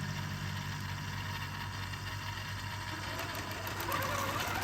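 Computerized QCT6 Pro quilting setup driving a sewing machine, with a steady, fast mechanical stitching hum at moderate level that runs evenly throughout and rises slightly near the end.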